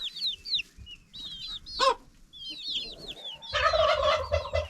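Chickens in a Bulgarian homestead barnyard, mixed-breed hens cackling and chirping close by in repeated bursts, with one sharp squawk and denser clucking at the end.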